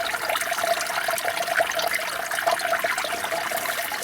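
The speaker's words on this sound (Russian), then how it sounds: "Родник бьет." Spring water gushing and babbling out of the ground in the taiga, a steady bright trickling close by that runs without pause and carries no talk.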